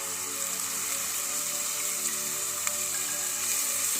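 Chicken pickle frying in oil after vinegar and lemon juice are added, a steady close sizzle with fine crackling hiss running evenly throughout, no voices.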